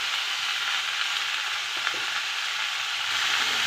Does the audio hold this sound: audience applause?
no